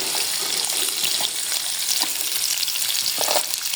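Onions frying with garlic and mutton in a karahi, a loud, dense, continuous sizzle close by with a few stirring knocks.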